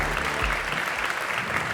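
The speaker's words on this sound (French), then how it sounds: "Sous applaudissements, Nicolas Leroy-Fleuriot." An audience at a departmental awards ceremony applauds as the CEO comes on stage, steady, full clapping filling the room with a faint low rumble beneath it.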